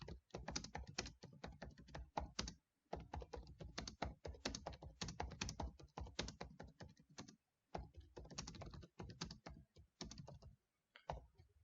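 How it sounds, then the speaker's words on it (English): Rapid typing on a computer keyboard, close and clicky in dense bursts with brief pauses between runs, no voices. "So I've just typed up a random quote"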